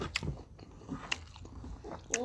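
Crunchy bites and chewing of pressure-cooked milkfish eaten with raw bitter gourd during a mukbang, close to the microphone, with several sharp crunches over a couple of seconds.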